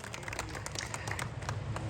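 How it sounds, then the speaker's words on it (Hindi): Applause from an audience at a Hindi poetry recital, a dense, steady patter of many hands clapping at moderate distance, holding evenly throughout with no voices over it. "एक बार ताली बजाइए"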